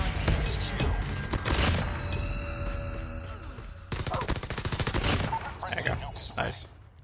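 Rapid automatic gunfire from the player's weapon in a hardcore-mode shooter video game, loud, dense bursts that rattle on for several seconds with a brief break, mixed with game effects.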